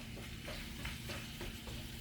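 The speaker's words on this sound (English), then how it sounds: "I'm just going to keep stirring it around, keep chopping it up to make sure that we don't have large chunks" Ground meat for a taco salad fries in a pan while being stirred and chopped up, giving a steady close sizzle with soft scraping and stirring noises throughout, no voices.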